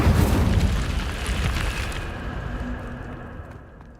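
A fiery Incendio spell blast erupts in Hogwarts Legacy, a loud booming burst up front that rolls into a long, fading rumble over about four seconds.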